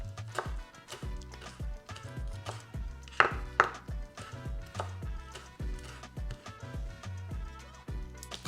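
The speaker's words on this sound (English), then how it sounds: "Or if you wish, we can cut up some small pieces." Knife chopping food into small pieces on a cutting board while preparing birria tacos, a quick run of sharp, close, rhythmic thuds with a couple of louder strikes, no talk.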